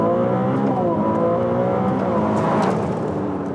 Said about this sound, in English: a welcome side effect of that is, well, it sounds like one of Ferrari's naturally aspirated V12s